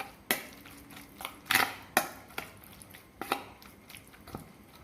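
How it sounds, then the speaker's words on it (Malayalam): A spoon works through a bowl of spiced bread and semolina batter, producing soft wet squelches and light clinks against the bowl in an uneven rhythm, quiet and close with no talk. "ഇനി ഇതെല്ലാം കൂടി നല്ലപോലെ ഒന്ന് മിക്സ് ചെയ്യാം"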